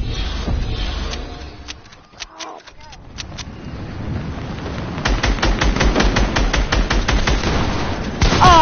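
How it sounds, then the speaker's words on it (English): Rapid gunfire from the Fortnite video game crackles in quick repeated shots, growing into dense, loud bursts in the second half, over steady game background noise, with a person talking. "Where are they shooting me from?"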